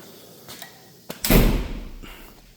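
A door opens into a CNC water jet room in a restoration shop with a couple of light knocks, then a louder whooshing thump as it swings, fading into faint room noise.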